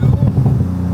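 A deep, loud aftermarket exhaust burble from a Porsche 991 Turbo S rumbles close by, a low pulsing engine growl that holds for about a second.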